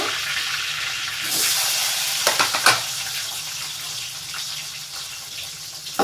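Dried chili and onions fry in a pan with a steady, close sizzle, broken by a few brief stirring clinks and scrapes midway.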